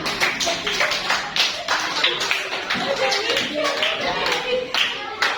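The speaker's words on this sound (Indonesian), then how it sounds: "Ya, bagus. Tepuk tangan." A classroom group of students claps together, loud close handclaps in a quick, uneven stream with chatter mixed in throughout.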